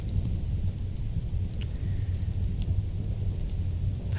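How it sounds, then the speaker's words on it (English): Rain falling as a steady, dense hiss and patter, continuous and fairly loud with a low rumble beneath, no voices. "I'm making the rain stick because I think it sounds pretty good."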